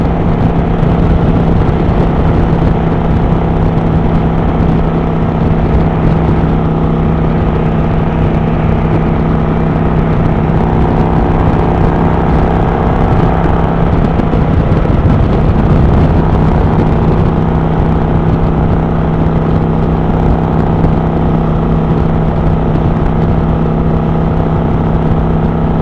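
A motorcycle rides along a road in Virginia, its engine holding a steady, loud droning hum with wind rush for the full stretch, no clear speech over it.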